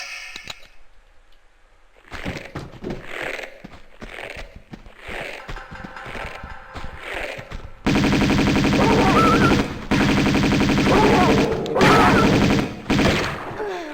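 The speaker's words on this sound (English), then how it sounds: "Let's get the Uzis out." Uzi gunfire in Tomb Raider II Remastered: rapid bursts of crackling shots, first in short volleys, then a louder sustained barrage with brief gaps between bursts.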